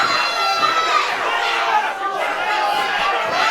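A live lucha extrema wrestling crowd at a PrideStyle event, a steady murmur of many voices with scattered shouts and calls rising and falling throughout.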